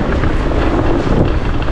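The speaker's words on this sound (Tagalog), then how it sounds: "Sorry mga Maninay, mahangin masyado." Strong wind buffets the microphone outdoors, a loud, steady low roar and rumble that fills the whole moment with no voice over it.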